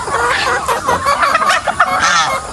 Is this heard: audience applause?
no